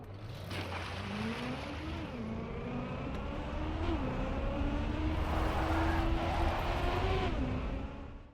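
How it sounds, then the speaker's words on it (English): A Trackmania video-game car drives into a pool, its engine whine climbing through gear changes while a washing, splashy rush of water builds up beneath it toward the end, with no voices. "here's a replay with the player's car driving into a pool."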